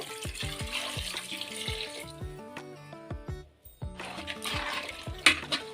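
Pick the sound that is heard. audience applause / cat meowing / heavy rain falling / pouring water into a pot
pouring water into a pot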